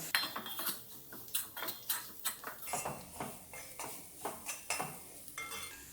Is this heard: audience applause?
no